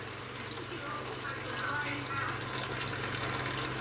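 Water rushes steadily under pressure inside a rain harvester tank being cleaned out after a fire, a continuous broadband hiss with a low pump hum beneath.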